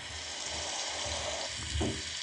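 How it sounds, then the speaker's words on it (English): Steady moderate rain from a phone sleep-sounds app, a constant dense hiss of falling drops with a soft low patter underneath, even and unbroken throughout. "I usually have it on this constant moderate rain."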